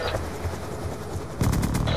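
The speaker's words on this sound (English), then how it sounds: "I just love the sound of the stealth chopper" The stealth chopper in Call of Duty: Black Ops 2 gives a steady, muffled rotor drone, then a burst of rapid gunfire strikes cracks out over it partway through.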